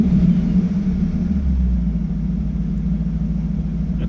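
A 1937 Buick street rod with a BluePrint Engines 350 crate engine idling slightly high, a close, steady, deep rumble that stays constant with no revving.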